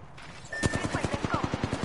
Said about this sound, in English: They shooting each other.